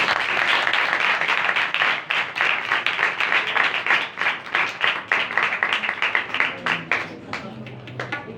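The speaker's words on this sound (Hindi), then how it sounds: "आपकी जोरदार ताली।" A church congregation at a Pakistani ministry gathering claps loudly in sustained applause that gradually thins into scattered, separate claps.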